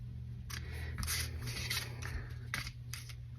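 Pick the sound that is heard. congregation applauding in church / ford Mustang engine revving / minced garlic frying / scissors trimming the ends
scissors trimming the ends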